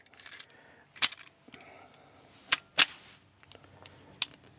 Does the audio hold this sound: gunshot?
yes